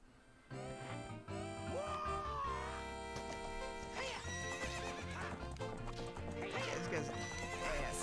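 Horse whinnies and clip-clopping hooves ring out from Ocarina of Time alongside the game's busy music, the neighs rising over the beat with rapid galloping footfalls.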